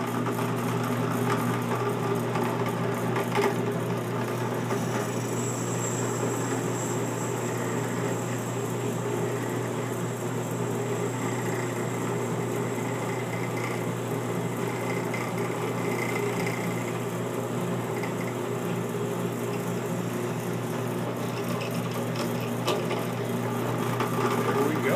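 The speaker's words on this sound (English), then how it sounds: "So let's get the holes cut in this thing and see how it works." A power tool drones steadily while cutting holes in a Lee reloading powder mount, a loud continuous motor hum with a faint high whine partway through and no talk.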